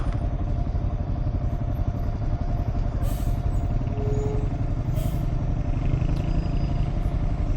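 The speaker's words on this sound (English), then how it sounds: "Just hopped on my bike and preparing to leave Merida." A motorcycle pulling away from Mérida, Mexico, with a steady, close engine rumble and road noise running evenly throughout, plus a couple of brief higher rattles.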